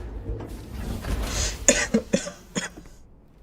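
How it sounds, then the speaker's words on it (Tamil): Several sharp coughs from a game character, in a scene from the PS5 game Death Stranding 2: On the Beach, come in a short irregular burst over a low ambient background with no talk. "இருமுனா தலை வலிக்குது மக்களே."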